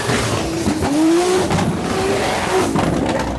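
A drift car's engine revs and whines at speed during a drift championship in Odesa, Ukraine, with tires squealing in short bursts, loud and continuous throughout.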